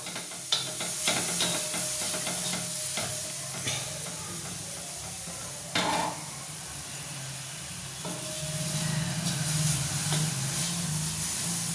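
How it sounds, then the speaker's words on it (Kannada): Ridge gourd for chutney fries in a pan over a high flame, giving a steady close sizzle and hiss with scattered crackles and a few stirring knocks, no voices. "ಇದನ್ನು ನೀಟಾಗಿ ಫ್ರೈ ಮಾಡ್ಕೋಬೇಕಾಗತ್ತೆ ಸ್ವಲ್ಪ ಜೋರು ಉರಿನೇ ಇಟ್ಕೊಂಡಿರ್ತೀವಲ್ಲ"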